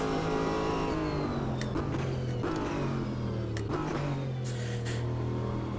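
Racing car engine in Automobilista 2 holding a steady loud drone, with rising and falling revs and a few quick downshift blips as it brakes and accelerates, no talk over it.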